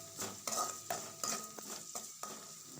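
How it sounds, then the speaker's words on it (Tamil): A spoon stirring spices and salt into a metal cooking pot for a tamarind curry with drumsticks and beans, giving a series of scraping, clinking strokes at a steady rhythm, close and alone. "அதையும் நல்லா மிக்ஸ் பண்ணிக்கிறோம்."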